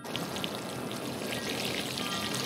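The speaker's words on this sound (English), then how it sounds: "Let me water my plants." Water pours steadily onto plants in a video game, a continuous close splashing wash with no talk over it.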